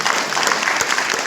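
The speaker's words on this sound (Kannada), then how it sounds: "ನಮ್ಮ ದೀಪು ಸರ್ಗೆ ನಿಮ್ಮಲ್ಲ ಜೋರಾದ ಚಪ್ಪಾಳೆ" An audience breaks into loud, steady applause for Deepu sir at an awards or recognition gathering, dense clapping filling the room close and continuous without any talk over it.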